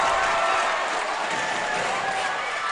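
A packed basketball crowd roars after a three-pointer in an NBL1 men's finals game between Ballarat and Nunawading, a dense, sustained wall of cheering and clapping that fills the arena without a break.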